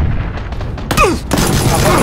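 Gunfire in a battle-royale style shooter game, a burst of loud, sharp shots around the one-second mark followed by a sustained noisy rattle of further fire and ambient game noise.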